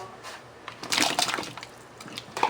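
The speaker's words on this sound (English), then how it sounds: "I'm adding a little bit more water." Water poured into a pot of simmering beef stew (carne guisada) through an open lid, a short splashing pour rising in the middle and trailing off, fairly close and moderately loud with no talk.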